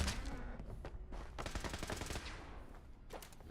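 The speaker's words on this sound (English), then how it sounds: "I hear shooting." Bursts of automatic gunfire and scattered shots crackle in Fallout 76, a dense, loud rattle of rapid reports that thins out briefly and then resumes near the end.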